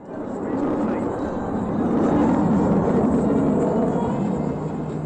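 A military aircraft at RAF Mildenhall, a loud continuous engine roar that swells and holds steady, with a voice talking faintly beneath it.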